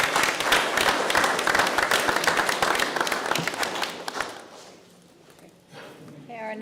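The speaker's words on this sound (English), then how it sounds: "Should we give them one more big round of applause?" Applause from the audience at a Board of Education meeting honoring Students of the Month, dense clapping for about four seconds before fading into quiet room tone, with a voice starting to speak at the end.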